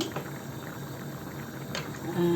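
Beef biriyani boils in a pot on the stove with a low bubbling simmer and a couple of light clinks, close and moderate in level.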